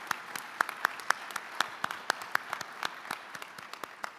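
Audience at a disability hall of fame induction luncheon applauding, a room full of steady clapping with sharp individual claps standing out, moderately distant and continuous throughout with no talking.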